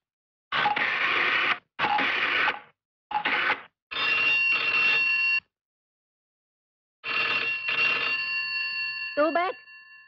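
An old telephone rings in an 80s Hindi film household scene. Several sharp bursts of bell ringing come with short pauses, then a longer ring with a tonal trill near the end.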